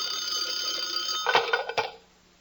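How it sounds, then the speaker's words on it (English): A telephone rings with a bright, buzzing electronic trill, then a few clattering knocks before it cuts off into near silence. "Suddenly the phone rang."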